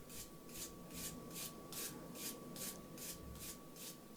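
Wire brush scrubbing forge-welded steel wire rope cable in quick, regular back-and-forth strokes, about two per second, fairly faint and with no talking.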